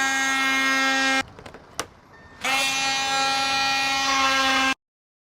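A Toyota Hilux Spartan front bumper being cut with a power tool gives a loud, steady high-pitched whine in two long runs, broken by a short pause with a few clicks.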